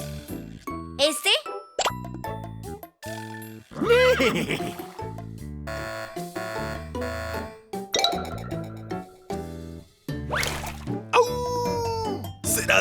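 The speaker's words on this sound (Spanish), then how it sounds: "Este debe ser el sonido de un caballo bien veloz." A cartoon horse gives several loud, wavering neighs and whinnies in an animated children's animal-sounds show, mixed with playful plops, hoof-like clip-clops and bouncy musical effects.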